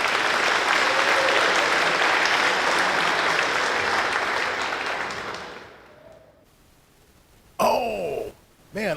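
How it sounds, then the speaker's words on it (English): Audience applause for the soloists at a sixth-grade Christmas concert in Hebron, Indiana: dense, loud clapping that fades out over several seconds, followed by brief speech. "let's have another round of applause for all of our soloists."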